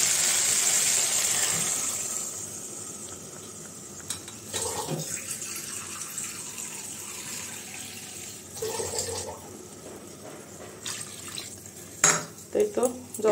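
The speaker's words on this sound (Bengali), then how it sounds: "এখন ঝোলের জন্য জল দিয়ে দিব।" Water is poured into a pot of cooked-down egg curry masala with potatoes, giving a splashing, running pour early on, then clinking of pots and utensils and some handling noise.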